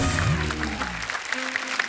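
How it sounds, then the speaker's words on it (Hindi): Studio audience applause at a Hindi comedy talk show as film cast members are invited onstage, a steady wash of clapping filling the clip with music playing underneath. "एक बार जोरदार तालियां हो जाए"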